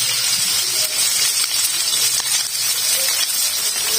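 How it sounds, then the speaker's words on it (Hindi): Chopped onions fry in hot oil in a pan for a white bean lobia masala curry, giving a steady, close, bright sizzle with faint crackles throughout. "ऑयल हमारा गर्म हो गया, अब मैं इसमें प्याज डाल दूंगी"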